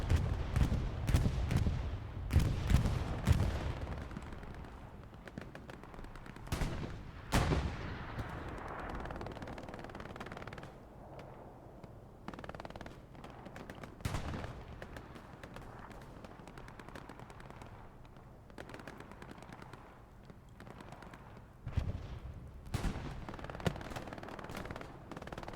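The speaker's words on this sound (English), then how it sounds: "Bombing run comes in from the Allies." An Allied bombing run and gunfire in the World War II video game Hell Let Loose, on the Omaha map: heavy bomb blasts and rattling bursts up front, then scattered distant shots and booms over a low rumble.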